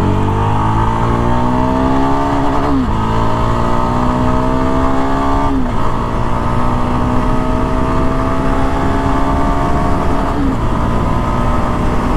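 A Yezdi Scrambler motorcycle engine pulled hard through the gears, each rising rev climbing steadily before a brief drop at the shift, repeating about four times, loud and close with no talk over it.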